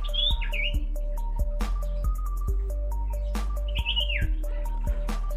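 Sirtu bird chirps and rising whistled notes over a steady low hum, with soft clicking taps scattered throughout.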